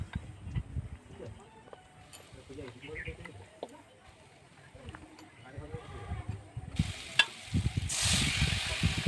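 Bay leaf, dried red chili and cumin sizzling in hot oil, a soft crackling sizzle that grows louder toward the end, with a person talking over it and animal bleats nearby.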